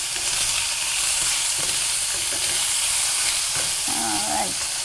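Tofu fries and is stirred in a pan, giving a loud, continuous sizzle with scraping stir strokes throughout, no talk.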